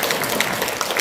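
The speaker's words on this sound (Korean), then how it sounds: "다시 한번 큰 박수 부탁드리겠습니다" A crowd claps steadily at an awards ceremony and forum, a dense, even patter of many hands sustained throughout without pause, with no voices over it.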